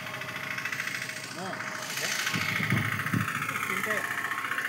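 A boat's motor idles with a steady mid-pitched hum and vibration on Maijan Lake in Dibrugarh during net fishing, as people talk nearby over the engine.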